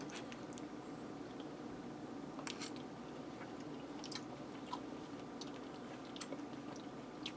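Someone eats a diner-style roast beef sandwich with gravy, with quiet, close chewing and soft wet squishes over a low steady background hum, no talking.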